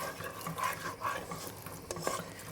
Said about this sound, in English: So I have to stir away